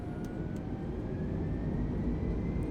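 Airliner engines roar at takeoff power during a night takeoff roll in Microsoft Flight Simulator, a steady, loud broadband rumble that holds level without a break.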